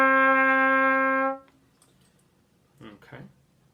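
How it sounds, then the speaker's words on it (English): Trumpet sounding a sustained low D, a bright steady tone lasting just over a second before cutting off, followed by brief quiet and a short burst of speech. "for those of you playing the trumpet or the cornet, we're going to play a D first"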